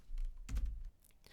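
A few quick keystrokes clatter on a computer keyboard, faint and close, with a single firmer key press in the middle and a couple of light taps after.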